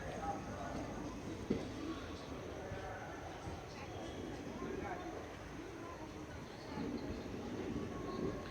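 A train running on rails through monsoon country on the Vijayapura to Mangalore route, a faint steady low rumble and rattle heard from inside, with quiet indistinct talk on board.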